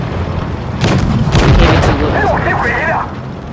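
A KV-2 tank shell booms in a tank video game, heavy and loud, with a rumbling impact and explosion and the crackle of other game sounds. Someone talks over the blasts.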